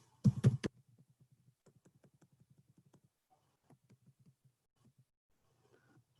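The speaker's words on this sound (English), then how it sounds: "I'm typing these terms in there" Typing on a computer keyboard: a brief loud burst opens, then a steady run of light, rapid key clicks that grows sparser and fainter, with no talking.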